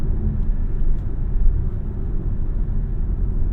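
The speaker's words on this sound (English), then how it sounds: "That transmission is eager to downshift for sure." A 2024 Dodge Hornet R/T's engine and drivetrain give a low, continuous rumble from inside the cabin as the transmission downshifts, steady and fairly loud, with no talking.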